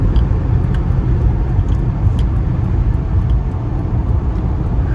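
A 1940 Ford Deluxe Coupe accelerating, heard from inside as a loud, continuous low engine rumble with road noise, steady throughout and without speech.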